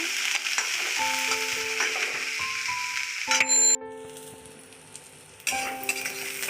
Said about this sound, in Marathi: हे चांगलं आपल्याला भाज्या परतून घ्यायच्या जास्त शिजवायच्या नाही